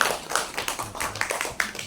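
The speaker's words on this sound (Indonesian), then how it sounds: "Tepuk tangan untuk Bapak Budi" A school audience at a teachers' dissemination event claps in scattered, uneven bursts, the hand claps close and fairly loud with no talk over them.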